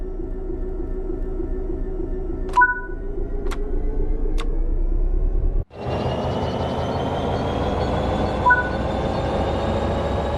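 In a train simulator game, a train releases its brakes and moves off, with a steady low engine drone and rolling hum, a few sharp clicks, then a louder, brighter traction hum after a short cut.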